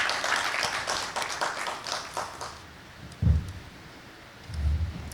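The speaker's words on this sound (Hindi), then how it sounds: "उनके लिए एक बार ज़ोरदार तालियां बजाइए।" Audience applause at a memorial lecture honouring Raja Nahar Singh of Ballabhgarh, a dense patter of many hands clapping for about two and a half seconds, then fading out, followed by a few low thumps.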